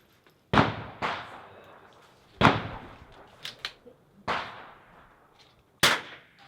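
Rifle shots at an outdoor NRL22 .22 rimfire match, several sharp cracks spaced a second or two apart with short ringing tails, a couple of fainter pops between them, no talk.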